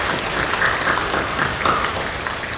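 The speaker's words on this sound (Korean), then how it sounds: "박수를 감사해 주십시오." Congregation clapping during a Korean church worship service at Kukdo Church, a steady, dense wash of many hands filling the hall, moderately loud and continuous throughout without speech.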